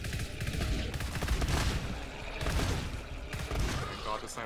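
Sniper sentry turret fire in the co-op shooter GTFO, a dense run of gunshots and impacts through a busy, loud combat mix with voices talking over it.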